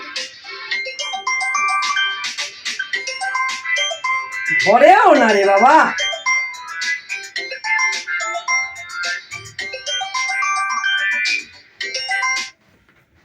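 A melodic phone ringtone chimes repeatedly throughout, with a brief spoken remark partway through and another voice sweeping in briefly.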